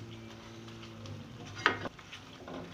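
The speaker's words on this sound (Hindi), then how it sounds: "उन्हें मैं चमचे की मदद से इस तरह दबा के मैश कर दूँगी।" Tomatoes pressed and mashed with a spoon while frying in a pan for keema methi, a steady sizzle with a brief clatter of the spoon against the pan partway through.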